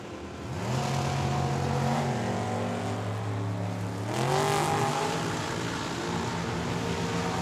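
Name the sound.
dragster and Mustang launching at the drag strip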